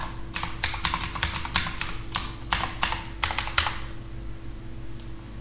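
Typing a password on a computer keyboard: a crisp, close burst of about a dozen key presses in an irregular rhythm, then a pause with a steady background hum.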